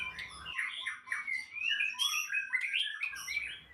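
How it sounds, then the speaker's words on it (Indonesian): A white-rumped shama, a murai batu kept at home, sings a rich, rapid run of varied whistles and warbles, loud and close, with no pauses and no talk over it. "murai batu gacoran untuk bunyi-bunyian di rumah"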